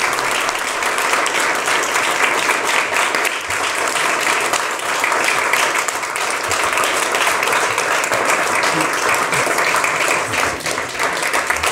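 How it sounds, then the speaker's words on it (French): A television studio audience gives a guest a sustained ovation, dense steady applause filling the room without a break throughout. "Ça, c'est de l'ovation."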